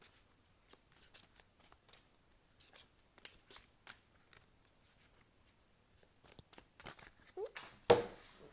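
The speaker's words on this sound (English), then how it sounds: "Let's pull some tarot cards and see what they have to say for what's coming in the next 3 months for pile 2." Tarot cards being shuffled by hand in a quiet room, with soft, irregular riffling flicks and light slaps, then a sharper snap near the end as cards are pulled.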